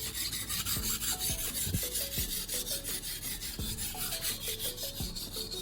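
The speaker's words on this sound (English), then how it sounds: "I'm making smooth, consistent strokes, always pushing the blade away from me on one side and then pulling it towards me on the other" A blade drawn in smooth, even strokes across a sharpening stone gives a steady rasping scrape that pulses rhythmically about twice a second. Close and continuous, with no voices.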